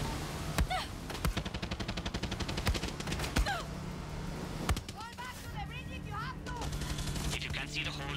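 Gunfire in Far Cry 6: sharp single shots and brief bursts crack repeatedly through about eight seconds, mixed with a busy game soundscape of ambient noise and other effects, with voices heard in the background.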